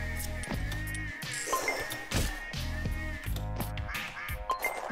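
Repeated cartoonish duck quacks from the video game Luckslinger, loud and close, coming in rhythmic bursts over game music with occasional clinks and thuds.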